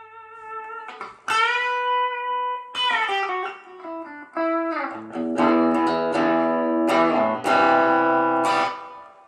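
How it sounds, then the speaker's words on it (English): A Marshall DSL1CR guitar amp plays sustained chords and notes through its digital reverb, each strum ringing out with a long, washy tail that lingers between phrases; no talking. "Let's just check out the reverb, because the reverb is a pro in my opinion."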